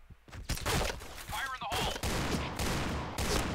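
Rapid bursts of gunfire in the video game Point Blank, several close shots in quick succession with brief pauses between volleys.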